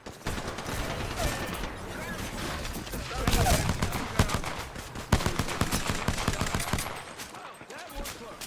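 Rapid bursts of automatic gunfire and scattered single shots crackle in a fast Apex Legends firefight, loud and close, spiking sharply near the middle. Someone speaks briefly underneath.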